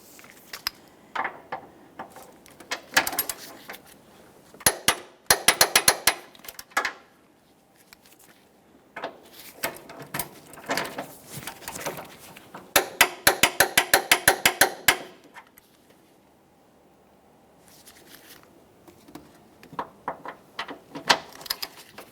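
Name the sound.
torque wrench tightening transmission mount bolts, Honda Civic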